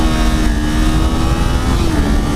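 A Kawasaki Z400 motorcycle engine pulls hard as the throttle opens, its air intake roaring loud and close with a steady, rising drone and no voices.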